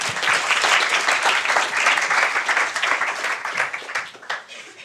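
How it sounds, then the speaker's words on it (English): At the YPNInspire 2016 event, a crowd applauds a speaker as she comes on. The applause is full and lively at first, then thins out and fades toward the close. "Round of applause, please."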